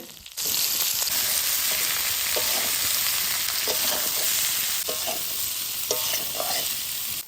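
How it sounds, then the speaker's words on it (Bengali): Jackfruit pieces frying in mustard oil in a wok, a steady loud broadband sizzle running throughout with occasional stirring scrapes, no voices. "কাঁঠাল পাঁচ থেকে ছ মিনিট মতো ভাজবো"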